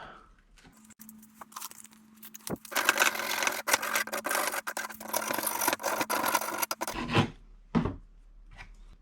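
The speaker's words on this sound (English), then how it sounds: "You can get a rough file to clean this up." A rough file rasps on a PVC pipe for a DIY kayak cart, with steady quick scraping strokes at close range. The strokes are loudest in the middle and followed by a few handling knocks.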